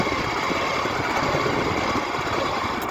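A walk-behind tractor fitted with a hilling plough engine runs steadily in first gear while planting potatoes along a row, a loud continuous close rumble with no talking.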